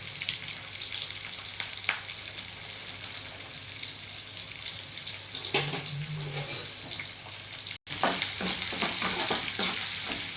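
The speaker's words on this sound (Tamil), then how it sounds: "இந்த வத்தலையும் போட்டு அதை வதக்கணும்" Onion, garlic and dried vathal sauté in gingelly oil with a continuous close frying hiss, broken by spatula stirs and scrapes and one brief dropout.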